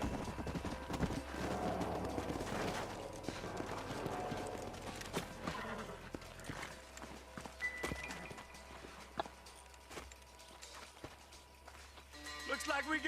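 Horses gallop with steady clip-clop hoofbeats in the Red Dead Redemption video game, mixed with game sounds and a voice speaking over them.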